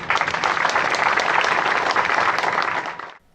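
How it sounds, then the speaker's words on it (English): An inauguration audience gives a loud, sustained round of hand claps, many hands clapping together in a dense burst for about three seconds before it tapers off quickly and stops. "Let us give hand claps to Dr. Bertram and Austria as a country."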